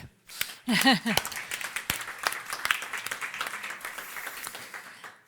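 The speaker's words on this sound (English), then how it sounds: "So I just want to give a round of applause for the organizer." Audience applause for the organizers at a literature festival debate, moderate clapping that rises after a brief voice and continues unevenly for several seconds with individual claps standing out.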